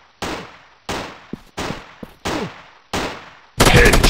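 Video game gunfire while aiming for headshots: five loud, separate shots each with a decaying tail, the later ones joined by short echoing cracks, then a dense burst of rapid fire at the end.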